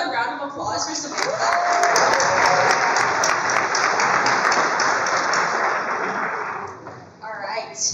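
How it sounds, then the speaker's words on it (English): An audience at a high school alumni panel breaks into sustained applause for a student speaker, a broad wash of clapping that holds steady for several seconds before tapering off near the end. "Can we have another round of applause for Samantha?"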